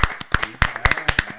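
A single person claps hands in a quick, slightly irregular run of about ten sharp, close claps on a talk show set.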